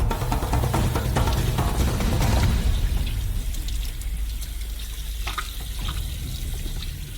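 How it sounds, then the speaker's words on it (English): Tap water runs into a kitchen sink as a raw sturgeon head is rinsed clean of mucus, a steady close splashing stream with irregular spatters, no talking. "We transfer the head to the sink and thoroughly wash it from the mucus"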